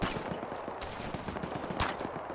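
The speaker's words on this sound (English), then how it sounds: "Oh, he's firing at us. It's a tank." Distant tank cannon fire and battle noise in an Arma 3 World War II battle, a steady crackle of gunfire with a couple of heavier booming blasts over a constant rumbling din, no talk.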